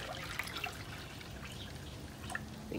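Water trickles and drips steadily into a container used for planting kesum (Vietnamese coriander), with small splashes near and fairly quiet, alone without talk.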